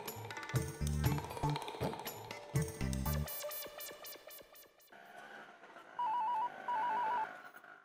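An electronic telephone ringtone plays, with a melodic tone pattern followed by two short repeated warbling rings; no voices.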